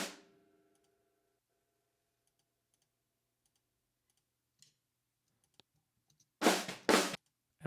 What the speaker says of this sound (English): I'm like clicking everywhere except where I want to